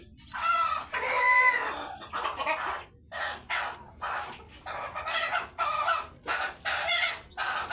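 Big-breed Laiza and Heja chicks and chickens on a farm cluck and chirp in a busy run of calls, with a rooster-like crow near the start, all close and loud with no talking.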